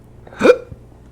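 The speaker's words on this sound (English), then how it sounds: "Wow, I got the hiccups." A single sharp hiccup, close and fairly loud, from a person sipping sea salt water, with a faint breath or hiccup echo just after.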